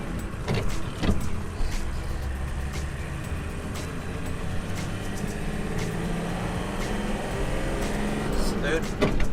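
A van being driven on a long road trip from Istanbul toward Sweden, its engine droning steadily with gear changes made by hand, while people talk over the cabin noise.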